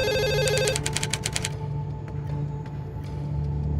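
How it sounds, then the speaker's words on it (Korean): A telephone bell rings in quick repeated bursts, then stops, leaving a low steady hum and faint room noise; no voices. "당시 강력반 팀장에게 전화 한 통이 걸려옵니다."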